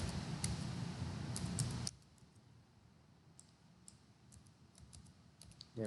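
Computer keyboard typing at a login screen, a quick burst of clicky keystrokes up front, then quiet room tone with a few scattered key taps and a final click.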